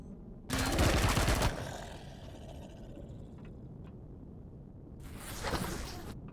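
Turret gunfire in the space game Empyrion Reforged Eden: two loud bursts of rapid firing, one near the start and a second about four seconds later, with a low rumbling hum between them and no talking.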